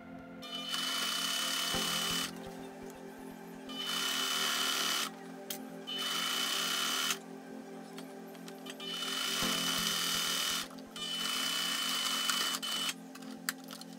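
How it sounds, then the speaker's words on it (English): A zigzag-capable sewing machine stitches fabric for DIY van cushions in several steady whirring runs of a second or two each, broken by brief pauses, loud and close with no voices. "I'm gonna sew down this blue line."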